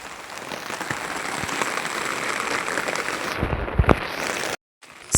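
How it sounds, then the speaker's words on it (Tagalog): Heavy rain pours down on a flooded path during a baptism gathering, a dense steady hiss with a few sharper splashes before a brief silence near the end. "kusog-kusog pud ang ulan"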